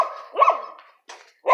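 A street dog barks on a town street, giving three sharp barks spaced apart, loud and near, with no talking over them.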